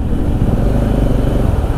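A motorcycle in city traffic on Avenida del Ferrocarril in Cali gives a loud, close, steady engine rumble for the whole stretch, with no speech over it.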